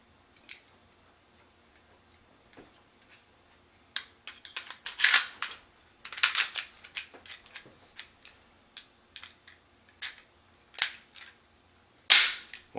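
Gun action being cycled by hand after a dry lube coating, giving a series of sharp metallic clicks and clacks, close and fairly loud, irregularly spaced with a couple of louder snaps near the end.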